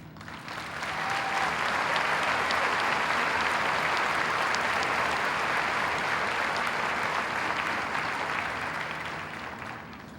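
A high school commencement crowd gives a sustained round of applause, a thick, even roar of many hands clapping that swells in and continues steadily for around ten seconds at moderate distance.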